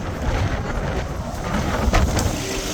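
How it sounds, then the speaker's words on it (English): Strong, chilly wind gusts outdoors at a crowded guarded site, a loud, steady roar buffeting the microphone with brief sharper gusts, no voices heard. "Wind is really picking up, folks."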